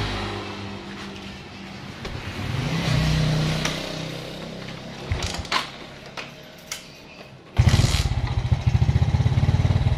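A Smash motorcycle engine with a bad sputtering fault that won't take throttle turns over with a few clicks and sputters, then catches and idles loudly with a rapid steady putter.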